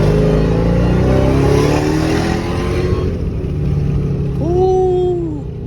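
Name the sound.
car engine revving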